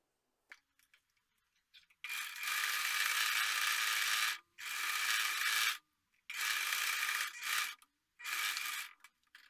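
A sewing machine stitches the rolled hem of a dish towel in four steady bursts of fast whirring with brief pauses between them, close and loud with no talk.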